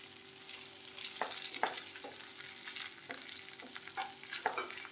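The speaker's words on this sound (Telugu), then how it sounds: "ఇలా యాడ్ చేసి ఇవన్నీ కలిసిపోయేలా ఫ్రై చేసుకోవాలి." Paneer 65 fries in a pan while being stirred, a close sizzle broken by repeated scraping strokes of a spoon against the pan, with no talking.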